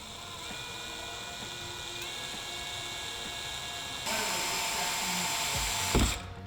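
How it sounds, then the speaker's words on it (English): A power drill with a 3/16 bit whines steadily, growing louder and harsher partway through as it bites into a car's new front splitter, ending with a short thump. "Let's go drill some holes in this brand new front splitter"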